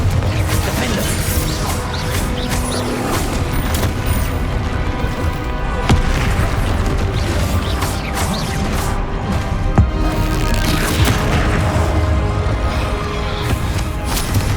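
Bombarda and Confringo spell explosions in Hogwarts Legacy, repeated loud crashing booms and smashing impacts through chaotic combat noise, with sharper hits standing out near the middle and later on.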